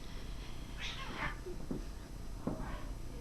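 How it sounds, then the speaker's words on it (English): Cats fighting just outside a door, giving a couple of bursts of tense yowling and meowing against a steady low background hum, heard at moderate distance with no talk. "the cats are fighting outside of my door"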